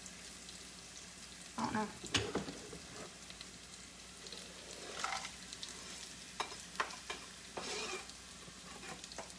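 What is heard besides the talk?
bacon frying in a pan with mushrooms and garlic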